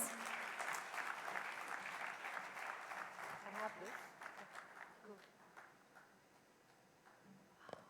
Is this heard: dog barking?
no